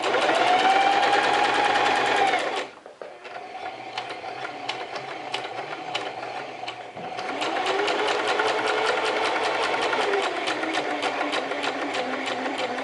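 A sewing machine stitches a double top stitch in loud, rapid bursts of needle clatter, pausing briefly in the middle with softer mechanical ticks before resuming its steady whirring run.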